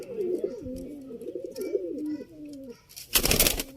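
Sialkoti pigeons, slate-grey chuhay birds, cooing in a rolling, warbling series of low throaty calls, close by, ending with a brief burst of rustling or flapping.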